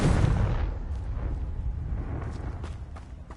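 A Confringo explosion spell bursts in Hogwarts Legacy, a loud low boom at the start that decays into a fading rumble with a few faint crackles afterward.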